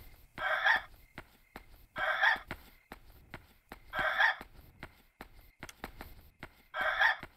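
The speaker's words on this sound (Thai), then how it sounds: "เพราะว่าเสียงไก่มันรบกวนสมาธิเหลือเกิน" Chickens and a rooster in the Yomawari: Night Alone video game crow in four loud, evenly spaced bursts, with quieter clucks and ticks between them.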